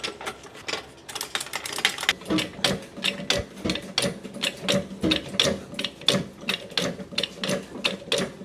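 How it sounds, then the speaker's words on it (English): A Ford Transit van is raised with a jack under its subframe, giving a close, steady run of sharp metallic ratcheting clicks and clanks with no talking. "we'll just jack it up on the subframe part"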